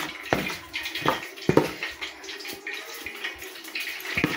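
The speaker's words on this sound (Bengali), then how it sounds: "ওদিকে তেল গরম করতে দিয়েছি, শব্দ হচ্ছে, চাক চাক করে শব্দ হচ্ছে" Oil heating in a pan before frying puti fish crackles and sputters with a busy, uneven run of sharp pops and hiss, fairly close and loud.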